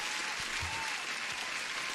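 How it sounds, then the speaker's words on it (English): Dense applause throughout, a continuous wash of many clapping hands at moderate level with no pauses. "Huge applause to you guys."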